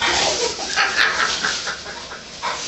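Dogs whimper and bark in a close, busy jumble that runs continuously for a few seconds in cold weather, with no one speaking.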